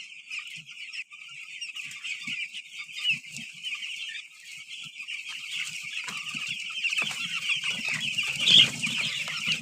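Chickens cluck and call in a caged farming setup, steady close clucking over a continuous bright bed of bird noise, with some wing flapping and louder calls building toward the end.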